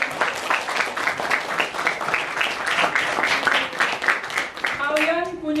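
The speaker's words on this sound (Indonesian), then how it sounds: "Tepuk tangan." Students in an Indonesian classroom clap together for several seconds in a busy, fairly loud burst, with voices mixed into the clapping and a brief tonal sound near the end.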